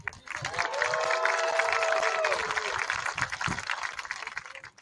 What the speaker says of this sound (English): let's give a round of applause for this man